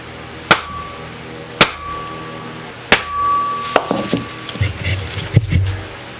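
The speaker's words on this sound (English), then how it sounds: "Just take the block of wood and a hammer, and we're just going to tap it in slightly." A hammer taps a wheel bearing into place through a block of wood, making three sharp, evenly spaced knocks followed by a cluster of lighter taps and rattles, close and alone.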